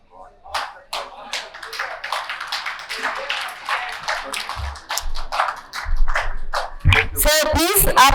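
Audience applause at a national doctors' award ceremony, a steady run of claps lasting throughout with a voice speaking over it and rising louder toward the end.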